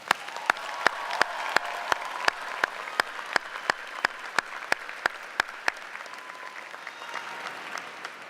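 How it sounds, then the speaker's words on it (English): Audience applause at a university commencement ceremony, a broad wash of clapping with a few sharp, regular claps standing out above it, fading toward the end. "please join me in a round of applause in recognizing all of your family and friends"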